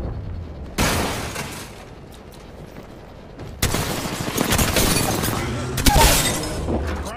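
Gunfire in the battle royale game Apex Legends, two loud bursts of rapid shots with impact crackle, the second longer and heavier, over game sounds and talk.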